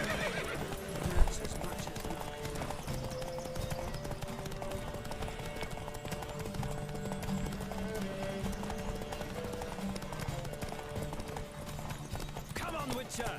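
Horse hooves gallop in a rapid, steady clip-clop during a Witcher 3 ride, with an occasional whinny and a continuous bed of in-game sound, while voices talk over the ride.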